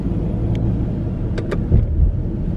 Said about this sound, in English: Going through the Harvey Tunnel.